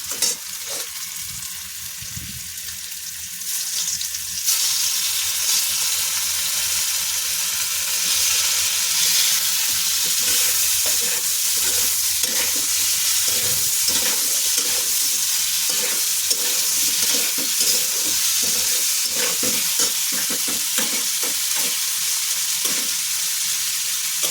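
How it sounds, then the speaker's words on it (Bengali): Potatoes fry with salt in a pan, giving a steady, loud broadband sizzle that swells after the first few seconds and carries on evenly, broken by frequent scraping stir strokes and clinks. "লবণ দিয়ে ভেজে নিচ্ছি আলু"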